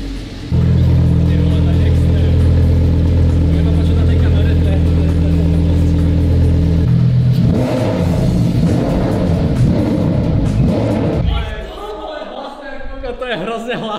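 A new Audi's engine is started and revved hard, a loud steady rumble with rising and falling revs that fades down near the end, with people talking over it.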